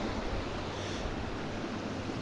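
A stream flowing through total shade in a forest garden, heard as a steady, broadband rush of running water that stays even and continuous throughout, fairly close, with no voices.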